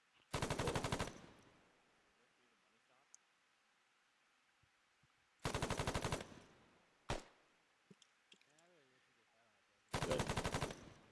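Three loud, close bursts of rapid automatic gunfire during squad shooting training, each about a second long and separated by quiet pauses, with a single sharp shot between them and faint radio-style voices.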